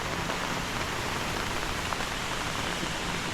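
Steady monsoon rain pours down near Kallarkutty bridge in Idukki, Kerala, in an even, dense hiss with no pauses and no voices.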